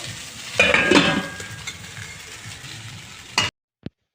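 Cooked rice frying in a pan at home: a moderate sizzle with spoon-on-pan clinks and a louder burst of stirring, then it cuts out abruptly, leaving a single faint clink.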